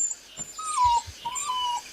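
A puppy gives thin, high whimpering whines, two drawn-out wavering cries close by with a few soft low thumps, in a quiet room.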